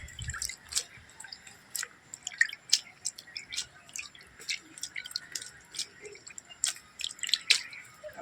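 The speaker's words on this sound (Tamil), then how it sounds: "அடுத்து லைட்டாக தண்ணி தெளிச்சிக்கலாம்" Light, scattered drips and soft patters of water sprinkled onto soil over newly sown castor seeds, irregular and close, with no talking.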